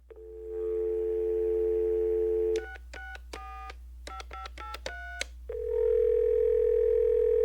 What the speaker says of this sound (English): Let me get Nick Kurtz, president of operations for the Reds, on the phone immediately.